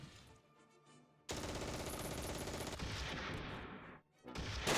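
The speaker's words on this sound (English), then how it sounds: "Oh, get that machine gun. Get that machine gun." Machine gun fire in the Close Combat 3 war game, loud rattling bursts running continuously for several seconds, briefly dropping away near the end before gunfire resumes.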